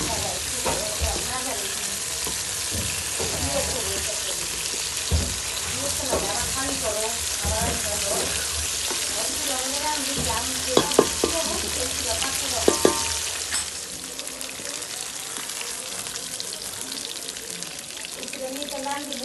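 Pabda fish bhuna fries in a pan with a constant loud sizzle and bubbling, occasional clinks of a stirring utensil, and a voice talking over it partway through.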